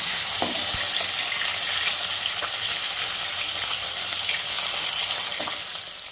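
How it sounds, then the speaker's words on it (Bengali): Pieces of rohu fish fry lightly in hot oil, giving a steady, close, fairly loud sizzle with a few brief stirring clicks and no talking. "সেজন্য আমি এগুলো একটু হালকা ভেজে নিলাম।"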